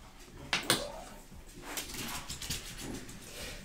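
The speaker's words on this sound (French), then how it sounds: "ce sont deux chihuahuas qui sont assez bruyants" Two chihuahuas give short, fairly loud whimpers and yelps in the background of a room, coming in a couple of quick bursts followed by softer scattered whines.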